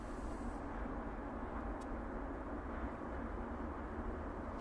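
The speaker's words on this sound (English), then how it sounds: "It is that TUI 787 slash Dreamliner." A TUI Boeing 787 Dreamliner at East Midlands Airport gives a steady, continuous roar of jet engine noise that holds at an even level throughout, with no voices.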